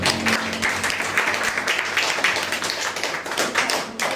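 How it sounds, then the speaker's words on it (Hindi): A seated audience at a motivational business meeting clapping together, a continuous patter of many hands at moderate distance, fairly even and busy throughout without a voice over it. "प्लीज़ बलराम सर एक बार ताली बजा दी"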